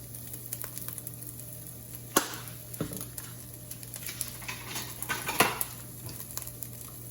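Onions mixed with paprika, lemon and pepper in a pan give a soft sizzle, broken by scattered sharp scrapes and clinks of a utensil against the pan, two of them louder.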